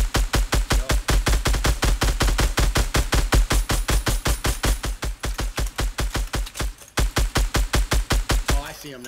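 Video game gunfire, rapid automatic shots fired in long steady bursts with a brief pause near the end, loud and up front with no talking over it.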